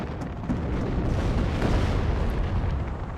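HIMARS rocket artillery striking enemy positions in the WARNO war game, heard as a dense, sustained roar of rumbling explosions and bursts that stays loud and continuous throughout, with no voices over it.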